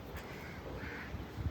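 Crows caw briefly over a farm field while rice is being sown. The calls are faint and distant, heard over a steady outdoor hiss with no voices.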